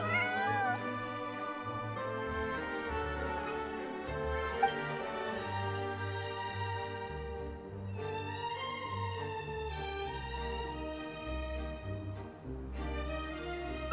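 A cat meows within the game Genshin Impact, set over steady layered game music, with a few short cat-like tonal calls near the start and no talking.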